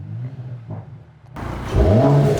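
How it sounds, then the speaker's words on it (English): A 2021 Mercedes-AMG E53 wagon fires up with a quick rev, a quiet idle hum giving way to a sudden loud engine bark that swells and settles into a strong rumbling idle, close by. "if you do it and you give it a little bit of a rev as it starts up,"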